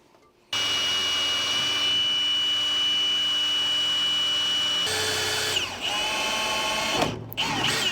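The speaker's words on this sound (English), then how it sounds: "we're going to drill a new hole in here for the hose" A power drill whirs loudly and steadily after a short quiet start, drilling a hose hole in an International pickup truck's metal, its pitch wavering and dipping near the end as it bites through.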